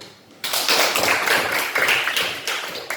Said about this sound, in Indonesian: Maka untuk semua kelompok kita berikan aplaus untuk semua kelompok